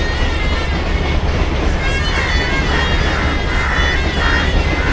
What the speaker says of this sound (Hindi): यहाँ पर थोड़ा आपको आवाज़ आ रहा होगा क्योंकि पीछे ट्रेन चल रही है